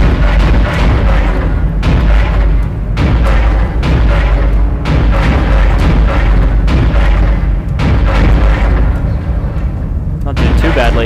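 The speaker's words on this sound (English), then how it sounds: "Gun overheats." A gun in the video game Dead Space fires continuously to the point of overheating. The heavy, booming shots repeat in a loud, relentless barrage with a few brief breaks.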